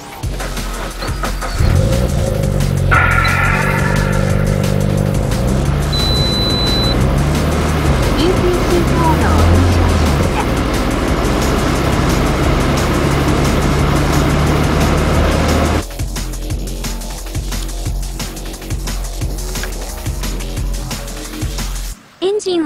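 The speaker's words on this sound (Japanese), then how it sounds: "同じようにエンジンを始動して回転を上げます。" A Toyota 86 / Subaru BRZ engine is started and revved while coolant is being changed, a nearby idle rising into sustained revs that hold for most of the clip, then cut off abruptly.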